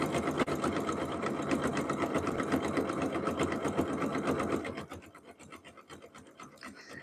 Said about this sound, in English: sewing a rug.